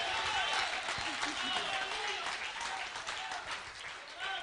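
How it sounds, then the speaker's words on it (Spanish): A church congregation applauds steadily, a broad wash of clapping that holds throughout, with a voice speaking over it. "Dale un buen aplauso a Jesús."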